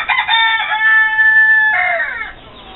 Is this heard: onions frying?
no